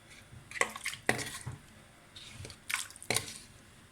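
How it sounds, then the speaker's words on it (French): Sauce tipped from a Cookeo multicooker bowl and spooned over fish in a tajine, heard as several separate wet splashes and drips with light clinks of utensils against the pot, close by and alone without talk. "je penche, je récupère la sauce et j'arrose mon poisson"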